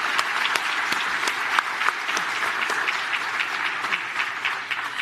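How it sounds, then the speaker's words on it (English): Steady, dense applause from a large crowd, continuous and fairly loud throughout with no voices standing out. "Let's give them another round of applause as well."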